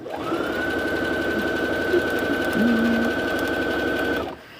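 A sewing machine runs continuously along a straight edge of a boxy bag with flex foam, a steady whirring drone with a sustained mechanical tone, close and clear, stopping at the end.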